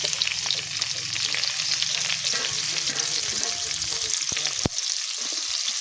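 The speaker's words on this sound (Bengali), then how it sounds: "তেল গরম হয়ে গেছে পাঁচ ফোড়ন দিয়ে দিলাম এর উপরে কুচনো পেঁয়াজ সেটা দিয়ে দিলাম" Panch phoron spices and chopped onion fry in hot oil, a dense, loud, close sizzle with a bubbling crackle underneath and a couple of sharp utensil knocks near the end, no speech.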